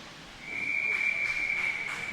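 Referee's whistle at an inline hockey game, a single sustained shrill blast held for well over a second amid faint rink ambience.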